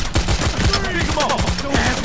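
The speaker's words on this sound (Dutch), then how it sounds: "Ja, schoten." Rapid bursts of gunfire during a bank heist in the video game Payday: The Heist, dense overlapping shots fired in quick succession, loud and close.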